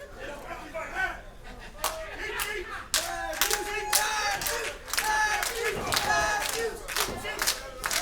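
A wrestling crowd at a live match cheers and claps in bursts, with sharp rhythmic claps and shouts rising and falling, and commentators talk over the noise.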